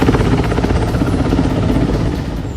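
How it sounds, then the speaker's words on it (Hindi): A CRPF Mi-17 helicopter during a river rescue operation, its loud, close rotor chop thumping in a fast steady rhythm with a heavy engine drone underneath, continuous throughout. "प्रशासन ने सीआरपीएफ से मदद मांगी, जो अपने MI-17 हेलीकॉप्टर के साथ पहुंचा"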